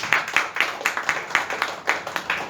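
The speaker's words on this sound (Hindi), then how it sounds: "जोरदार ताली देंगे अभी।" A church congregation at a Sunday service claps together in a steady, moderately loud round of applause, the individual claps blending into a rhythmic patter.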